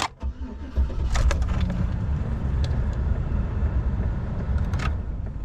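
A Chevy Silverado 1500 Cateye truck engine cranks briefly and catches, then settles into a steady, close idle.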